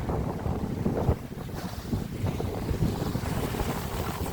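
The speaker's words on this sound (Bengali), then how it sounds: "এরকম জলের স্রোতটা একেবারে রয়েছে।" Water current and waves of Lake Michigan in Chicago, a steady broadband rush of moving water mixed with wind buffeting the microphone, continuous and fairly loud with no talk.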